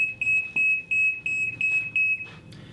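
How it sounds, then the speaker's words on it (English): A library's security gate alarm goes off at the exit, giving a string of about seven evenly spaced electronic beeps on a steady high tone. It is moderately quiet and sounds over faint room noise. "you'll notice that it sets off our alarm"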